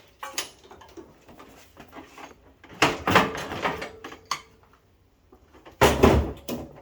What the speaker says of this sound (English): Take the hood off real quick.